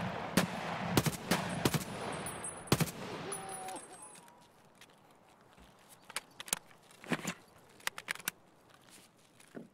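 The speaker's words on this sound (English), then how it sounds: "RPK sounds pretty mean unsilenced" Unsilenced bursts from an RPK light machine gun in Escape from Tarkov rattle out in rapid clusters over the first few seconds, then give way to quieter ambience and a few scattered distant shots.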